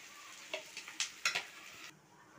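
Diced potato tipped into a pan of lightly fried onion gives a few quick clatters and stirring scrapes against the pan over a faint, low sizzle, quiet and close.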